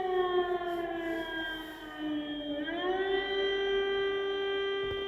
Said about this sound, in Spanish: cuando sonaban las sirenas de alarma antiaérea